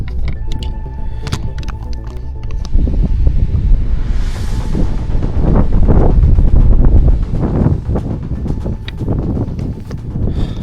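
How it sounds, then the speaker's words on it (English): Strong wind buffets the microphone in heavy rumbling gusts that swell and fade, with a few faint knocks and rustles mixed in, outdoors in Kansas during a late-October cold front. "It's so windy"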